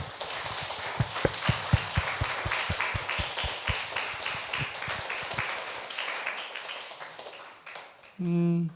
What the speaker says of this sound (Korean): 우리에게 응답하신 주님께 영광의 박수를 돌려드립니다.